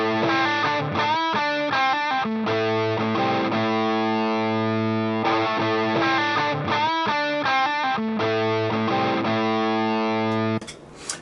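A guitar played through a Simble Dumble-style overdrive pedal rings out in sustained overdriven chords with brief strummed and picked passages between them, loud and close, ending with a short noisy burst.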